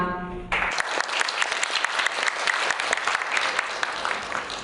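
Audience at the award ceremony of a university debate contest bursts into applause, a loud, steady wash of clapping from many hands that follows a brief tone and holds throughout.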